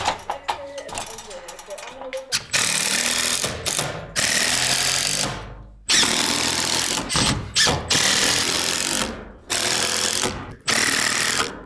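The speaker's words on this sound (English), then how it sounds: "We did forget to put screws in the top of our OSB on our header, on the exterior and the interior, so I'm gonna work on that and Jesse's gonna work on lumber." Power drill driving screws into OSB on a header during garage construction, a series of loud, close whirring bursts of about a second each separated by short gaps, with some voices at the start.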